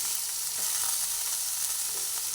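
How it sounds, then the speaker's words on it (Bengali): Sour yogurt going into a pan of frying bhola fish with tomato, giving a steady close sizzle with faint stirring, continuous and without talk. "সেই টক দইটা দিয়ে দিচ্ছি"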